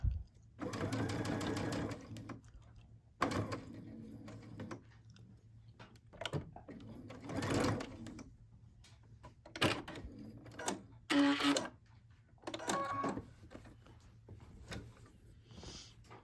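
A sewing machine stitches binding onto a quilt at a 3/8-inch seam, running in several close, steady bursts of rapid mechanical chatter with short pauses between runs and no talking.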